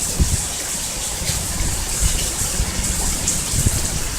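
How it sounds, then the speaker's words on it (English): Steady, heavy rain from a thunderstorm roars close by, a dense wash of hiss with scattered heavier splashes and drips, no voices. "Hey, it's raining."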